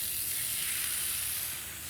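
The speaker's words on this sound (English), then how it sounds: "Now the chicken can go in skin side down, lovely sizzle." A loud, steady sizzle of skin-side-down chicken frying in a hot pan, close and continuous, fading slightly at the end.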